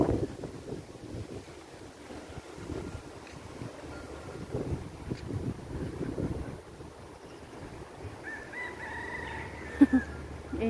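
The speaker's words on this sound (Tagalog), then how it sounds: "Ingay nung manok" A rooster crows once in the distance near the end, heard over blustery wind buffeting the microphone and low outdoor rumble in Bishan Park, Singapore.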